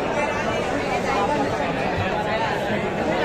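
Dense crowd chatter fills the Parel cha Raja Ganesh pandal in Mumbai during the 2023 padya puja ceremony: steady overlapping voices and hubbub, close and continuous, with no single voice standing out.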